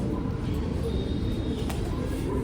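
Low, throaty pigeon cooing close by, a soft continuous rumbling murmur with no clear pauses.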